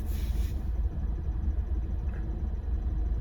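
Steady low rumble and hum of a car engine while driving, a constant drone filling the cabin with no talk.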